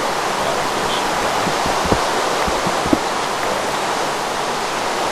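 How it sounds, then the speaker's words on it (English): Steady broadband rush of flowing water in Minecraft, built into a chicken farm, running continuously and fairly loud with a couple of faint clicks, no talking. "So now all the water flows forward"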